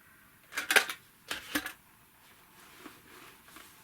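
A box full of scissors and other metal tools clanks and rattles in two brief bursts near the start, followed by fainter scattered clinks against quiet room tone.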